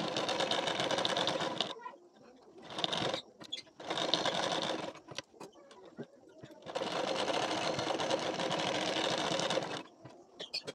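A sewing machine stitches the collar of a katori blouse in bursts, with two long runs and several short ones separated by quiet pauses.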